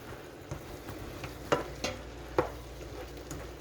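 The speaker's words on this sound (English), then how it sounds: "Now I'm going to stir these mushrooms in that have Cooking with Greens family spicy seafood blend on them" Mushrooms coated in spicy seafood seasoning stirred into sautéed vegetables, a low sizzle under several distinct scraping strokes of a utensil against the pan, close and fairly quiet.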